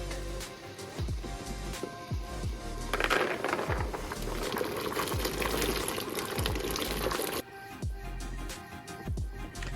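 Dried beans tipped into a stock pot holding about two quarts of boiling water, splashing and bubbling steadily with scattered clinks and plops, close by and moderately loud.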